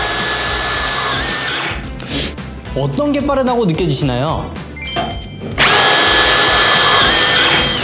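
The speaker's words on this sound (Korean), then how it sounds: "박는 것도 뭔가 이 미러키 FQID2 모델이 빠른 것 같거든요" Milwaukee M18 FQID2 cordless impact driver driving screws, loud continuous high-speed whirring bursts near the mic at the start and end, with someone talking in the quieter gap between runs.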